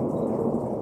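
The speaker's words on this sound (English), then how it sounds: "It's raining." Rain drums steadily on the metal roof of an RV, a dense, close, continuous hiss and patter filling the whole short moment.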